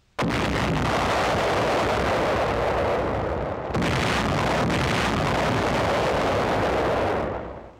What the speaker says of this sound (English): The mines are carried to a secluded area and then destroyed.